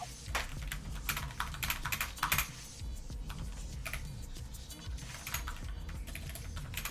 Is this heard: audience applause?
no